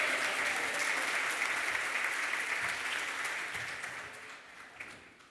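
An awards-ceremony crowd at the 2025 Ellies Awards keeps up sustained, dense applause that stays loud and then slowly tapers off.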